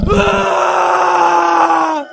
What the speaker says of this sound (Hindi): तभी गोपी की चीखने की आवाज आती है